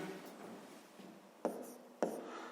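Pen or pencil writing out a fifth-grade math solution on paper, a soft continuous scratching with two sharper taps near the end, close and quiet with no voice.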